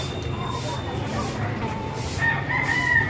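Live chickens at a market in the Philippines cluck and a rooster crows nearby, heard under people talking amid general market bustle.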